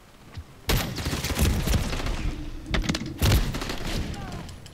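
Shotgun blasts in the shooter game Modern Warfare: two heavy, booming shots about two and a half seconds apart, loud and close, with smaller clatter and thuds between them and a voice talking underneath.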